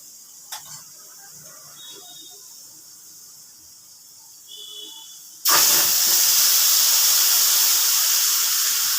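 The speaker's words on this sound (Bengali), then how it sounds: "এবার আমি থানকুনি পাতার পেস্টটা দিয়ে দিচ্ছি।" Thankuni leaf paste drops into hot oil with frying garlic, setting off a sudden loud, steady sizzle and hiss that continues unbroken after a quieter stretch of faint kitchen noise.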